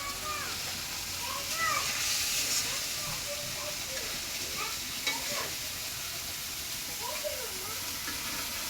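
Pabda fish sautéing in a hot pan gives a steady, close sizzle and hiss, with repeated scraping strokes of stirring, and faint voices or other sounds underneath.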